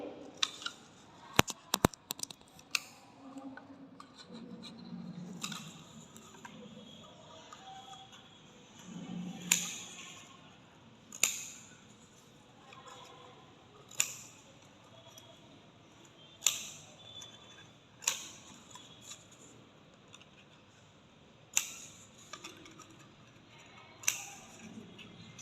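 Scissors snip repeatedly at the ends of gift wrapping paper, sharp crisp cuts spaced a second or two apart with soft paper rustling between them, close and fairly quiet.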